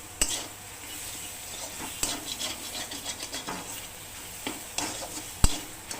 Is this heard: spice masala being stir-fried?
yes